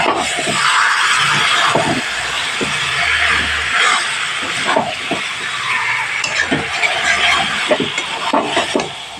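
Chicken cooking with a splash of water in a pan, loud steady hissing and sizzling broken by repeated scraping and stirring strokes, dense and close throughout.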